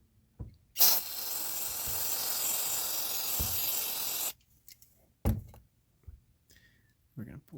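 Cleaner sprayed from an aerosol can into the carburetor passages of a Harbor Freight 2000 watt generator: a loud close hiss lasting about three and a half seconds, then a few short bursts and clicks.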